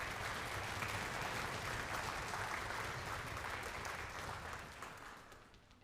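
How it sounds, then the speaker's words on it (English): Concert audience at a community wind band fall concert applauding flute and clarinet soloists, a sustained wash of clapping from a sizable crowd, fairly distant and even, tapering off near the end. "why don't you stand up right now for your applause?"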